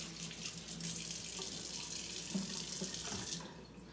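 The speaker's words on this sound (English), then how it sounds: "Let me wash my hands." A kitchen tap runs steadily while hands are washed under it, a continuous close rush of water with slight splashing changes, no talking.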